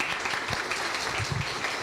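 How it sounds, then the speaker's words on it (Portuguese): Applause from a round-table audience at an academic health symposium, a steady dense wash of many hands clapping at low level, continuous for the whole stretch with no talk over it. "Salva de palmas."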